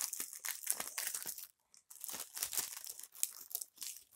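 Plastic crinkles and rustles close up as pouches are handled and pulled open, in irregular bursts with a brief pause midway; no talking.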